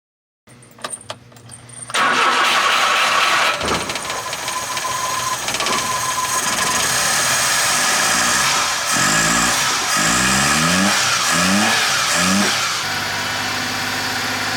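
A carbureted BMW E30 engine cranks briefly, catches after about two seconds and settles into a loud, close, steady run, with several throttle blips rising and falling toward the end.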